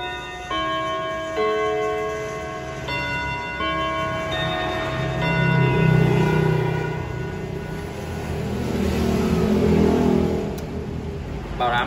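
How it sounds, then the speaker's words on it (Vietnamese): A wall clock with a Kenji movement strikes a run of clear, ringing chimes that step from note to note and linger. Low rumbling swells underneath as the tones fade. "Bảo đảm anh em là chuông hay tuyệt vời."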